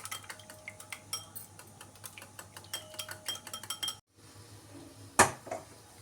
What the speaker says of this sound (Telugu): కొంచెం సాల్ట్ వేస్తున్నాను, కొంచెం పెప్పర్ పౌడర్. ఇప్పుడు బీట్ చేసేసుకుందాము.